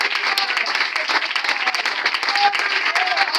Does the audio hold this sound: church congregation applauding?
yes